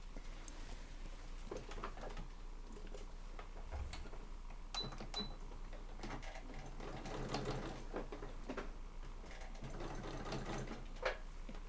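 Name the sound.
sewing machine stitching the side of a cross body bag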